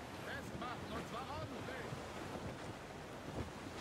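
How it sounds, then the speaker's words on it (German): Stormy wind gusts over rough open sea in Assassin's Creed Rogue, a continuous roar of wind and crashing waves around a sailing ship, with faint cries of seabirds or whistling gusts early on. "Der Wind verheißt Ärger, Captain"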